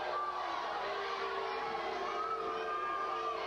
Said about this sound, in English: Crowd letting her hear it.